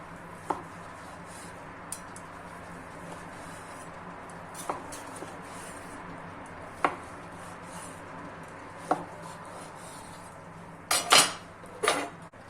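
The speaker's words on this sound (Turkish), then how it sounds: "2 dakika dinlenen etimizi dilimliyorum." A knife slices a rested beef tenderloin cooked with the reverse-sear method on a board, giving sparse, soft taps spaced a couple of seconds apart and a louder clatter of cuts near the end in a quiet kitchen.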